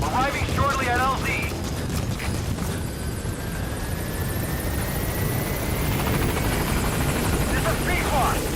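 Pequod helicopter arriving at a landing zone in the Metal Gear Solid V video game, a steady loud rotor drone filling the scene with game effects and voices over it.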